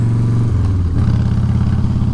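A moped engine buzzes loudly nearby, its pitch shifting as it passes close by, a short revving drone with rattling clatter.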